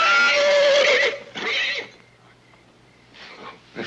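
A horse whinnies loudly in a long, shaky neigh as a sound effect, followed by snorting breaths and a shorter whinny near the end, over a low steady hum.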